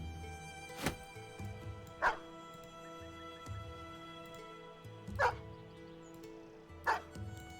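Dogs in the Battle Brothers video game give a few sharp barks and yips spread out over several seconds, standing clear above a low, steady game ambience.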